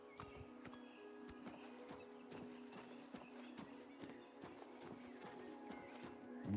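Horse hooves clip-clop in steady repeating steps in the video game Oblivion, moderately close, with faint game background sound underneath and no talking.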